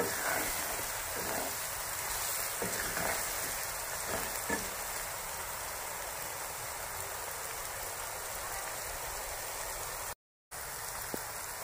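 Spice masala for chicken sautéing in a pan, a continuous close sizzle with a few stirring scrapes early on, then steady frying with a brief dropout near the end.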